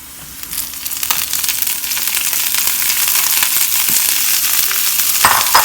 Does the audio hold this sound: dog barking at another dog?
no